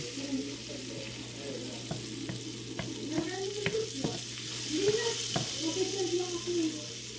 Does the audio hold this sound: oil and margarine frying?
yes